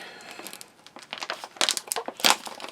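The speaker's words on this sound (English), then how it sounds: "Tear open at the top, so we'll give this a tear." A plastic combat ration bag from a Latvian army pea menu being torn open at the top, crinkling and ripping in close, uneven bursts that grow louder toward the end, with no talking.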